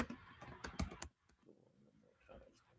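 A burst of quick keyboard clicks as a name is typed into a computer, close and fairly clear, then a faint murmur of a voice in the background.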